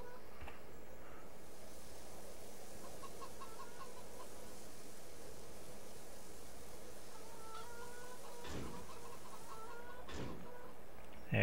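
Chickens cluck in the farm video game The Forgotten Lands 1951, with short bursts of clucking over a steady low ambient bed, plus a couple of sharp thumps toward the end.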